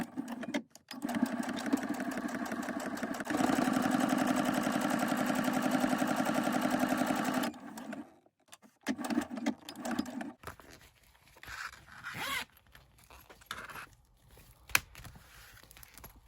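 A sewing machine runs a seam on a budget envelope in a sustained burst of even stitching, then stops and gives short uneven spurts and clicks, fairly close and clear.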